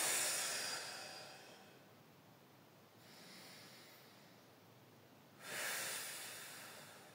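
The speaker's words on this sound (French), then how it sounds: "Et vous faites 3 respirations." Three slow, deep breaths taken during a gentle joint-mobility exercise, each a close, airy hiss of inhaling and exhaling, with a louder breath at the end.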